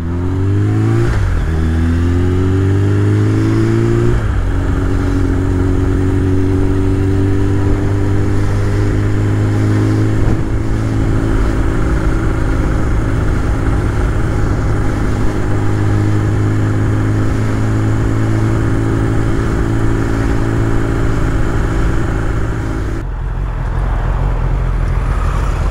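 A motorcycle engine revs up with rising pitch, then settles into a loud, steady growl close by that runs throughout.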